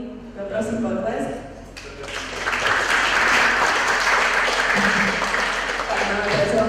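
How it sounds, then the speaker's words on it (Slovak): Audience applause at a BarCamp Bratislava talk on performance marketing, starting with scattered claps and swelling into loud, steady clapping that fills the room for several seconds. "Poprosím potlesk"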